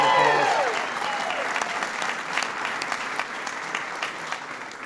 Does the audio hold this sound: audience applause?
yes